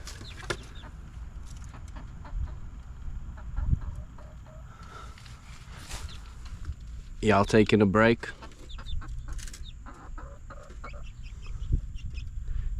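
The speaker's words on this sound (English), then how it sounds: "Give these chickens some more fresh grass." Backyard chickens cluck and chatter nearby in short scattered bursts, with one louder rapid squawking run partway through, while a person talks intermittently over them.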